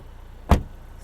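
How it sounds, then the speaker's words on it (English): A Volvo XC40 T5 R-Design car door shuts once with a solid, dull thump, close and alone in a quiet setting, followed by silence. "solid feel on the door close."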